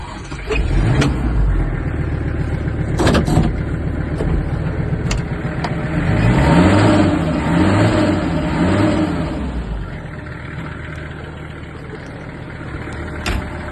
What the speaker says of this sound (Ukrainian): Ось так працює тракторець